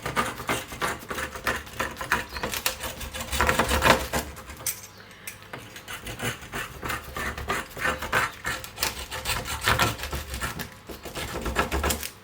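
Crinkle cutter pressing and rocking through a slab of over-dried sourdough, giving a steady run of dense scraping, crunchy cuts close by with small bursts, no talking.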